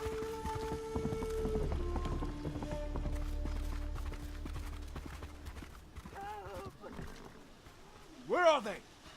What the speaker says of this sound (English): The one thing I really like is the dynamic, like, horse sounds.